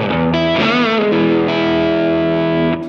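A saturated fuzz tone from an Electronic Audio Experiments Longsword pedal on electric guitar, a sustained buzzy chord with a few shifting notes, loud and continuous for a few seconds without talk.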